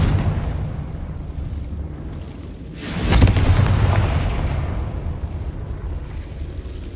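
A Confringo spell explosion in Hogwarts Legacy, a single loud whooshing boom that swells about a third of the way in and then rumbles away under a steady low ambient bed.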